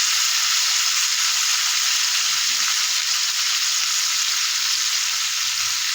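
Steady, loud sizzling of pork belly (liempo) frying in a hot pan, a continuous hiss with faint clinks underneath.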